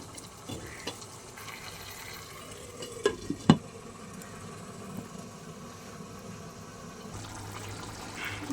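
Lote (Bombay duck) fish curry simmering in a covered pot over a low gas flame gives a faint, steady bubbling hiss, broken by a few small clicks and taps.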